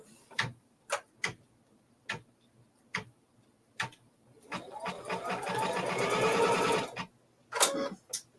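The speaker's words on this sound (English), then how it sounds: "we'll flip and stitch this one down" A sewing machine stitching a quilt segment, heard as a few soft clicks followed by a steady whirring run of stitching lasting about two seconds, close and moderately loud, then more clicks.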